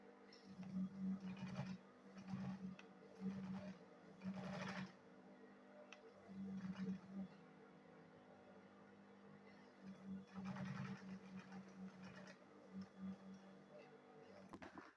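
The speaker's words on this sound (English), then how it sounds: "So after sewing this one this way, I will still turn it this way now. Then I will sew it again." A sewing machine stitches a fabric schoolbag in repeated bursts of steady, rapid whirring, stopping and starting as the work is turned, fairly close and moderately loud with no talk.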